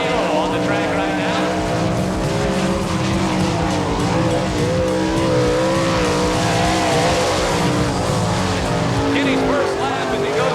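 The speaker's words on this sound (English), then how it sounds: "This is the number 94 of Kenny Jacobs out of Holmesville, Ohio, on the track right now." A 1998 All Star Circuit of Champions sprint car, number 94, runs a lap at Eagle, Nebraska, its engine roaring loud and steady throughout while a track announcer talks over it.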